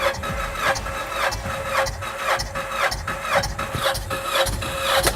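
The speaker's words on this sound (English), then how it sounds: "cranking your engine with the spark plugs out" A personal watercraft engine cranks over rapidly with the spark plugs removed and throttle wide open, a steady, rhythmic whirring chug with no firing, continuing evenly and fairly loud throughout.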